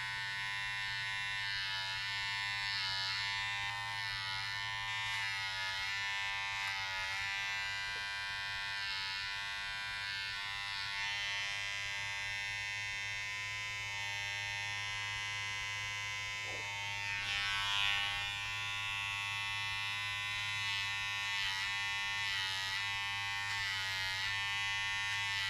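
An electric hair trimmer buzzes steadily as it cuts hair for a buzz cut with a 1.5 guard and the lever open, a constant hum with slight fluctuations over nearly half a minute and no talking.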